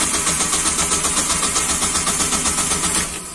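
A car engine cranks rhythmically with the starter's steady chugging pulse, repeating evenly for about three seconds without catching, then cutting off, loud and close with no talking.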